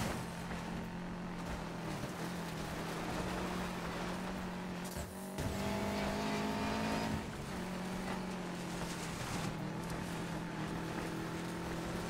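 Cars in a race pass one after another, a steady engine drone with rising and fading whooshes as they go by, heard at a distance with wind noise and no voices.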